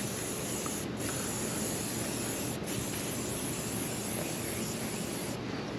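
Engine detailer sprays steadily onto a Harley-Davidson engine's cases and cylinder heads in one long, close, even hiss with a couple of tiny breaks.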